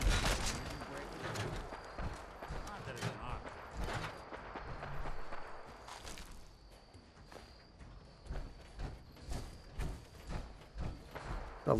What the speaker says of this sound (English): A lot of gunfire down here.